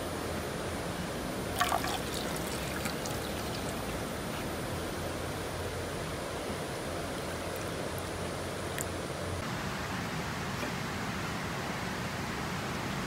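Hydrogen peroxide diluted with clean water at 1:10 is poured onto garden soil around celery plants, making a steady, close, continuous watery trickle and splash that runs unbroken for about thirteen seconds with no talking.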